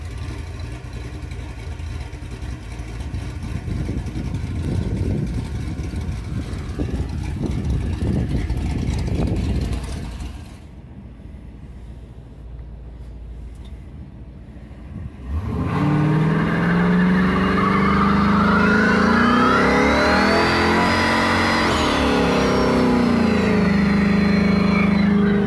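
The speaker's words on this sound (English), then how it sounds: "Made for a really nice lope at idle and picked up a ton of power everywhere." Crown Vic Police Interceptor with a turbo LS-swapped engine and stage 2 cam, loud choppy loping idle, a brief quieter lull, then a strong rev that rises and holds near the microphone with no talk.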